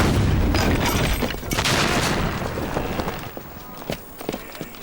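Ship's cannon firing aboard a Royal Navy vessel in a period naval drama, a loud booming blast opening the moment and rolling away into a long, noisy decaying rumble.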